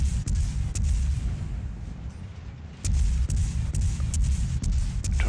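Naval guns of the cruiser USS Atlanta firing shells in World of Warships, a dense continuous rumble of booms with sharper repeated gun reports and brief lulls, loud and close, no talking.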